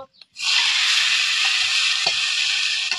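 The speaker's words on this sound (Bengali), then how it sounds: "এবার আমি সিদ্ধ করে রাখা আনাজ দিয়ে দিব" Boiled vegetables hit a pan of fried garlic and onion, bursting into a loud, steady sizzle after a brief quiet moment, with a few faint stirring knocks beneath it.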